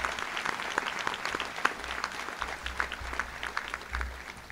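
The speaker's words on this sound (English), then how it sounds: "deserve a round of applause" Audience applause at a Brazosport College commencement ceremony, steady clapping from a large crowd that holds at a moderate level for several seconds.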